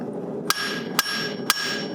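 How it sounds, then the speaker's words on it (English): Three sharp metallic hammer strikes on steel at the corner of an anvil, evenly spaced about half a second apart, each ringing briefly over a low shop hum. "give it a good blow right at the corner of the anvil"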